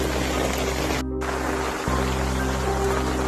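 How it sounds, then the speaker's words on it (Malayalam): Heavy rain pouring down over a rural field with trees, a steady broadband hiss of falling water interrupted by a brief dropout, with a low rumble running underneath. "നല്ല മഴയായിട്ടാ"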